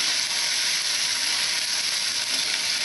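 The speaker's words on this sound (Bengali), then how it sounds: "হালকা করে ভেজে নেবে" Okra and egg fry in a pan with a steady, loud, unbroken sizzle and crackle, close up and with no voices over it.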